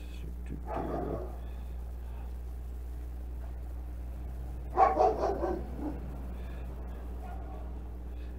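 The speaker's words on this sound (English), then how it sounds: "neighbors driving by this big dog in the truck." A big dog barks from a truck driving past, a short burst of several loud barks, with fainter yips earlier and later, over a steady low hum.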